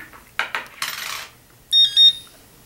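A Garrett AT orange pinpointer metal detector beeps twice, two short, bright electronic tones close by, after a few handling clicks and rustles; no talking.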